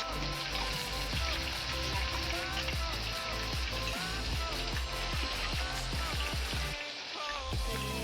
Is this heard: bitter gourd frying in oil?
yes